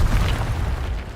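A spell goes off with an explosion in the video game Hogwarts Legacy: a deep, rumbling boom that stays loud and steady through the whole moment, with no voices.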